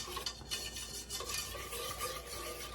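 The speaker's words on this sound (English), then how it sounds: "So we're going to be making a roux with flour and butter." A spoon or whisk works flour and butter together into a roux in a pan, giving quiet, continuous scraping and stirring strokes with faint sizzling, no voices.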